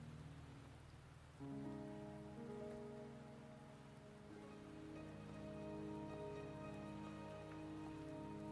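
Rain falls steadily in the video game Wuthering Waves, a constant wash of drops on surfaces heard under a swelling layer of game music, with no voices.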